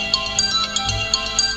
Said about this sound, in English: I'm just about to smash his telephone into the ground here. I turned it off and it kept ringing.